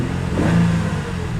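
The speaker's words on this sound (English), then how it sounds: "Motor sounds decent." A smash-damaged car from a Copart auction yard idles and briefly revs, a steady close engine drone that swells slightly in the middle.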